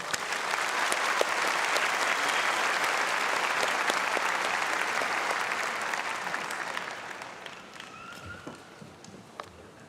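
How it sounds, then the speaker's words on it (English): A large commencement ceremony crowd claps in a broad, even wash of applause that holds for several seconds and then gradually thins out, with scattered claps near the end. "Please join me in giving them a round of applause."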